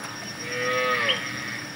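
Cattle grazing on abandoned campus grounds give a single long, loud moo that swells and fades with the herd nearby, no voices over it.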